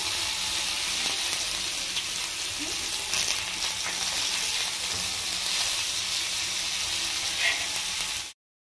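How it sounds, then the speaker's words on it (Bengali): Pumpkin leaf fritters sizzle steadily in hot oil in a pan, a dense continuous frying hiss with occasional soft stirring clatter, close and even throughout before cutting off abruptly. "এবার লাল করে ভেজে নেব, এপাশ ওপাশ ভালো করে ভেজে নেব"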